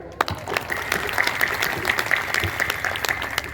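Audience applause at a Hindu religious ceremony, a Gayatri Mahayagya fire ritual with Kalash Puja, with steady dense clapping from a crowd throughout, fairly loud and continuous.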